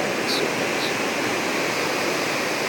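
A fast-flowing river with a high water level rushes in a steady, loud broadband roar that fills the whole moment without pause, close by and continuous.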